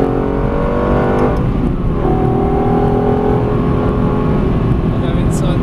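Lexus LFA engine pulling hard on the Silverstone track, a loud, continuous in-car roar with rising pitch sweeps as it accelerates, people talking over it.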